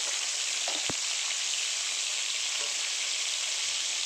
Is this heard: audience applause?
no